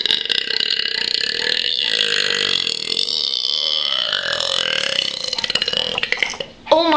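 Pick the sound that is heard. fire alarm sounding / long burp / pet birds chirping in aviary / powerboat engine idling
long burp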